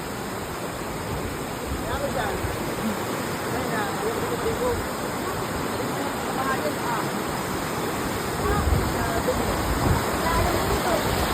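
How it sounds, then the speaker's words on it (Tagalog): Creek water flowing in a rural barangay, a steady, dense rushing wash that holds at an even level throughout, close by and with no voices or other distinct sounds on top. "At paglabas po namin, ay nakakita po kami bigla ng sapa."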